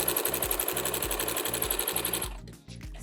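A sewing machine stitches a Minky blanket with a close, fast, regular mechanical rattle that runs steadily, then stops near the end, leaving faint clicks.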